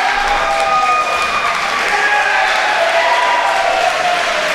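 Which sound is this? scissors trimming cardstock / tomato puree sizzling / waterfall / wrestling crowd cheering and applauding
wrestling crowd cheering and applauding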